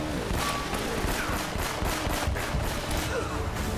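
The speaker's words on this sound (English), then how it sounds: "I'm shooting at them!" Rapid bursts of gunfire from a shootout in the video game Uncharted: Drake's Fortune, loud and dense throughout with overlapping shots and impacts, and no clear talk.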